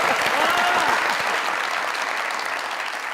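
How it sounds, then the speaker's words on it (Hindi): A studio audience claps loudly and steadily at a comedy talk show, the dense applause holding for a few seconds before easing slightly toward the end. "तालियां।"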